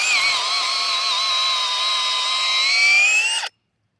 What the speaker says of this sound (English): We're actually going to be drilling a slight pilot hole.